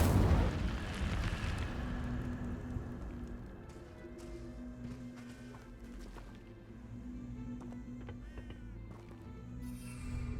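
Fire spell Incendio cast in Hogwarts Legacy, a roaring burst right at the start that fades into a low, sustained rumble under a layer of game ambience and faint effects.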